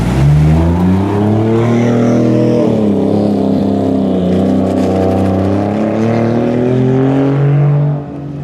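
Car engine revving loud and near as it drives and accelerates on a shakedown run, the pitch climbing and holding through the gears before cutting off abruptly at the end.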